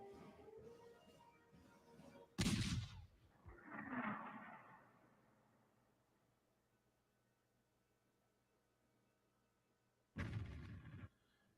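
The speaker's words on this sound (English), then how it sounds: "Let's just watch that explosion one more time." Grable atomic cannon firing a nuclear shell, heard as a sudden broadband blast followed by a rolling rumble that fades over several seconds, then a second sharp burst near the end; no talking.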